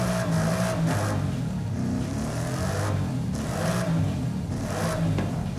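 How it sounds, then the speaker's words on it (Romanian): A stock Ford Mustang Dark Horse 5-litre V8 revving, with a loud steady engine roar and several rising and falling rev swells across a few seconds, no voices over it. "Așa sună motorul stock."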